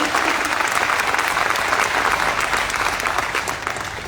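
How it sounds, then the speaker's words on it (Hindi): Loud, steady applause from an audience filling a hall, dense clapping sustained for about four seconds and tapering slightly near the end. "इसलिए अपने लिए एक जोरदार ताली बजा।"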